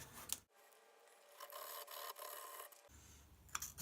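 Edges of .300 Win brass cases are polished with a rasping, rubbing stroke, a close, steady abrasive scrape lasting a couple of seconds between brief handling sounds, no talking.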